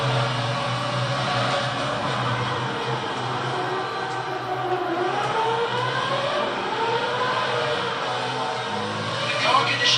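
Formula 1 cars in F1 2006 on PS2 at the Bahrain Grand Prix give a steady, high engine drone whose pitch sweeps up and down through gear changes for the whole stretch.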